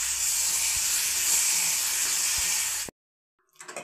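Curd stirred into green chillies in a hot pan, a loud continuous sizzle and hiss with a couple of soft spoon knocks, cutting off abruptly before a faint clatter returns.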